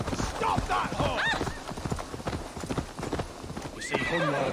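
Galloping hooves pound rapidly beneath loud, shrill neighs in Assassin's Creed Valhalla, with voices and game noise layered over the rush.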